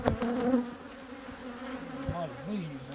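A dense, continuous buzz of many honeybees close by in an opened hive, with wavering drones rising and falling.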